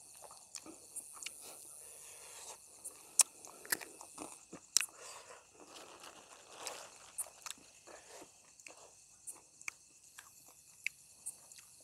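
Crispy grilled field crab being eaten close up, with irregular crunchy bites and chewing against a faint background of insects.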